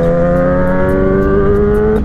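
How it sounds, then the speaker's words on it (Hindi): Kawasaki ZX10R superbike engine running loud and close with a steady throaty drone, a few sharp exhaust crackles and pops breaking through near the end. "बहुत ही तगड़े पटाखे छोड़ रही है ZX टनर"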